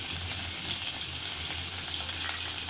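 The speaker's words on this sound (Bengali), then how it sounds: "এবার এটাকে ভালো করে নাড়াচাড়া করে ভেজে নেব।" Chopped onion and tomato fry for a hilsa curry, giving a steady, close, hissing sizzle in the pan with faint scraping from stirring and no talk.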